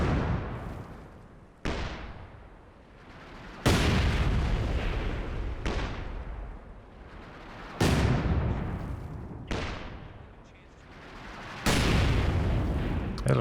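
Artillery barrage explosions in the video game Company of Heroes 2: seven heavy, booming blasts landing one after another about every two seconds, each followed by a long rumbling decay, with no talking over them.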